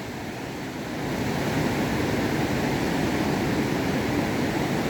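Sea waves wash in at Digha beach on a calm day, a continuous broad roar of surf that swells slightly after the first second and then holds steady with no voices.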